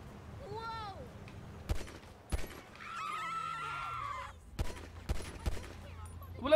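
Gunfire rings out in Grand Theft Auto V during a British police mod session, with several sharp, loud cracks spread irregularly between quieter stretches of game ambience, plus brief faint voices.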